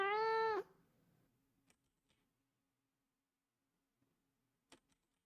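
A single loud, clear cat meow opens, then fades to near silence broken by a few faint ticks and clicks.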